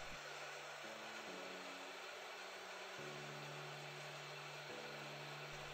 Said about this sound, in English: I'm down to F6, which is the second airflow setting, and that fan's already a lot quieter.